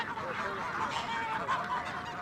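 Geese honk on a farm where chickens are also raised, a fairly quiet, continuous chorus of overlapping calls heard from a short distance, with faint voices in the background.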